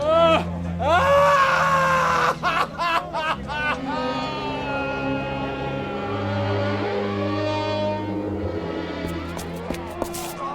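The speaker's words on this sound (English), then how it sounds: "I heard him screaming, Doctor." A man screams in anguish in a radio drama, loud, raw and drawn out at first, then trailing into moans beneath a babble of other voices.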